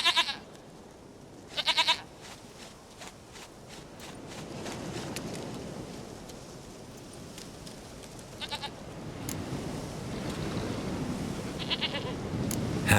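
A goat bleats in The Witcher 3 video game, a few short nasal cries spaced apart over soft ambient game sound and faint footsteps.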